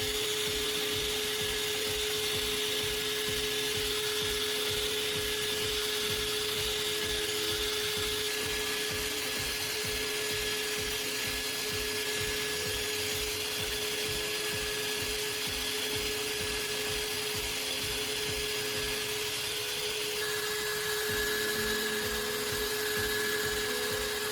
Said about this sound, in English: ensuring the entire blade gets an even pass over the fine grit